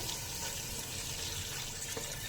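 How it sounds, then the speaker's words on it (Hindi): Water is poured into a pan of marinated chicken that has been fried in oil over a medium flame, giving a steady, fairly loud rushing wash throughout with no talk. "अब इसमें पानी ऐड करेंगे"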